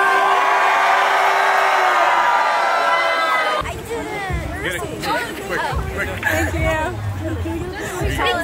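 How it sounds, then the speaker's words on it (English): Crowd at a Penn State college gathering cheering and whooping for a performer, a loud sustained roar of shouts that drops into lively chatter, hubbub and scattered whoops. "Make some noise for my brother Mosey one time!"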